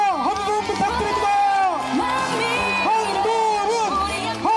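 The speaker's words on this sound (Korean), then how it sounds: "계속 박수와 함성 부탁드립니다" Crowd at an outdoor political campaign rally in Sejong cheering and shouting, with a continuous dense wash of voices, whoops and applause close at hand, amplified speech running over the din.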